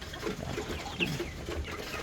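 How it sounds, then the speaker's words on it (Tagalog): Healthy chicks crowd and scramble for feed, with soft overlapping cheeps and clucks and light pecking close by. "ganyan ang mga sisiyo mga idol, lalo kapag healthy, nagagagawan sa pagkain"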